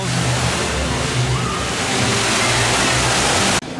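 Rushing, sloshing water from theme park fountains that rise and fall, loud and close with a steady splashing wash, a voice faintly underneath, ending in an abrupt drop.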